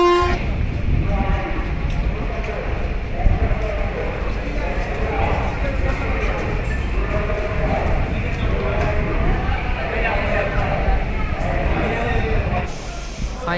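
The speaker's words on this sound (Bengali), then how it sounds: "চলো ট্রেন ছেড়ে দিচ্ছে সময়ও হয়ে গিয়েছে" Intercity Express 15709 departing from Malda Town towards New Jalpaiguri, a steady heavy rumble with horn toots, people talking nearby and a sudden drop near the end.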